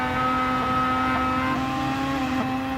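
Onboard engine of a classic DTM race car in a sim racing game at the Nürburgring Nordschleife holds a high, steady buzzing whine at near-constant revs, loud and continuous with no talk.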